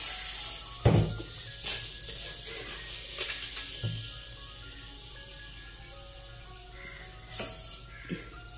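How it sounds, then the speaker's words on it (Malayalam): Sugar melting in a very hot pan sizzles softly and steadily at close range, broken by a few sharp scrapes and clinks of a spoon against the pan, with no talking. "കുറച്ച് പഞ്ചാര ആദ്യം ഒന്നും ഉരുക്കിയെടുക്കണം"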